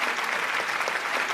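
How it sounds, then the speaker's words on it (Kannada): At the Chittara Star Awards 2024 ceremony, an audience claps in steady, dense, loud applause as an award is presented. "ಜೋರಾದ ಚಪ್ಪಾಳೆ ಬರಲಿ"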